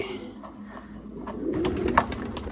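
Pigeons coo at a busy pigeon market in Kazir Hat, Chattogram, with low, throaty calls rising out of a steady crowd-and-market din over a few seconds.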